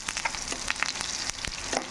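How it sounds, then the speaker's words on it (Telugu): Curry leaves dropped into hot oil for a garlic tempering rice, producing sharp spitting crackles and pops over a soft continuous sizzle, close and brief. "కరివేపాకు కూడా వేసుకుందామండి"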